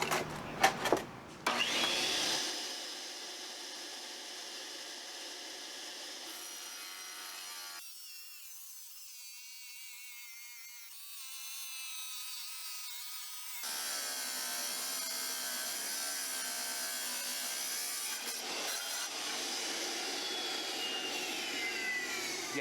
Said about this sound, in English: Yes, it can cut large format diagonally, 18 by 18 inch, clean cut marble.